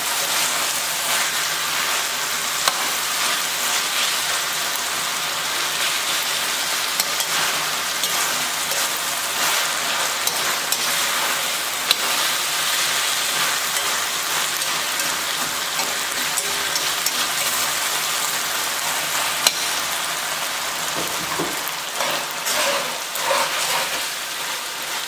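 Ground Wagyu beef brisket filling, heavily seasoned and spiced, frying in a pan with a steady, dense, even sizzle held close up for the whole stretch, with no talk over it.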